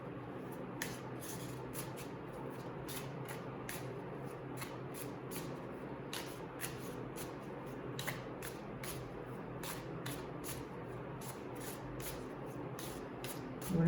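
Tarot cards are shuffled by hand, a quiet run of rapid riffling bursts and soft slaps repeating at an even rhythm close by, with no talking.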